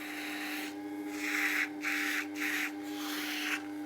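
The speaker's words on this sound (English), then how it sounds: "remove any traces of oil and dust from the wheel using an emery cloth or sandpaper to roughen the surface of the rubber" Emery cloth rubbing across the rubber drive wheel of a WG250 wet stone grinder, several short abrasive scrubbing strokes in a steady rhythm over a constant machine hum, close and fairly quiet.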